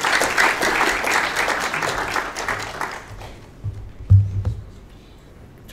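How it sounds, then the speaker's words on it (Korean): An audience at a Korean mission forum greets a professor with warm applause that swells for about three seconds, then fades away, followed by a few faint thumps and shuffles. "박수를 한번 맞이하시겠습니다"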